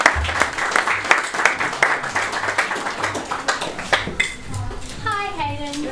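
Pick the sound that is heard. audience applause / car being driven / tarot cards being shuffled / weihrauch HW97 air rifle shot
audience applause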